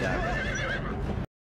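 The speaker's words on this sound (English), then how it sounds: "What a badass horse, too." A horse in the 1995 film Braveheart lets out a loud, wavering whinny lasting about a second over hoof and battle noise before cutting off abruptly.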